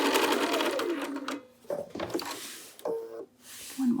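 A sewing machine stitching fabric hums steadily at close range, pausing briefly at a pivot before starting up again in short bursts.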